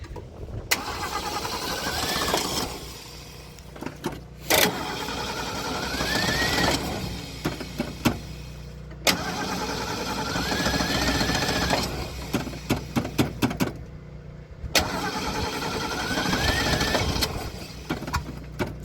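A Ford Ranchero engine cranks repeatedly in several long bursts separated by pauses, the starter grinding loudly and the engine catching only briefly without settling into an idle.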